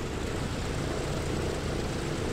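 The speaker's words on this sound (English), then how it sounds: "Good start on engine number 3." Steady loud propeller engine roar from a Douglas DC-6A as its number 3 radial engine starts and runs during preflight, a dense continuous drone with no voices heard.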